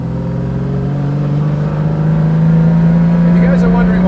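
Lamborghini LM002 engine roars loudly and steadily while driving, a deep sustained drone rising slightly in pitch, close and dominant.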